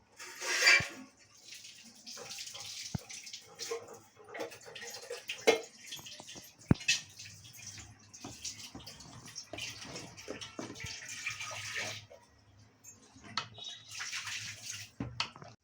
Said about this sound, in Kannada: ಈಗ ಇದು ಚೆನ್ನಾಗಿ ಬಾಯ್ಲ್ ಆಗ್ತಾ ಇದೆ.